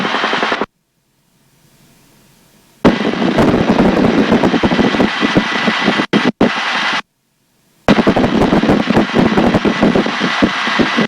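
An UH-1B Huey helicopter on a low-level pass gives a loud, close engine and rotor roar, broken by a few abrupt silences where the sound cuts out.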